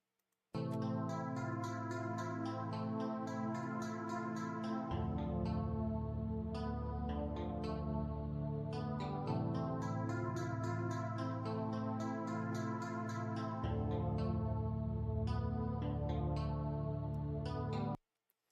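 A dark, dissonant synth melody loops over a heavy sustained bass, dense and steady throughout with a slightly echoing, chorused texture and no voices.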